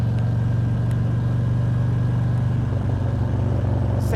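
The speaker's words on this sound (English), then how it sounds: "Sandstorm is sounding beastly with the amazing Chromworks pipes. Listen to that." Harley-Davidson motorcycle named Sandstorm, fitted with Chromeworks exhaust pipes, rumbling loud and steady at a low, even throttle while riding on a morning road, with a continuous deep exhaust drone throughout.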